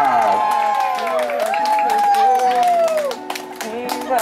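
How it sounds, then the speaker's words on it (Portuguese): Crowd clapping and cheering at a romantic public proposal in a city setting, lively applause mixed with whoops while a singing voice and music carry over it. "Uma salva de palmas!"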